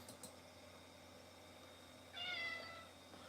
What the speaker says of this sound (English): Hi, Studio Cat.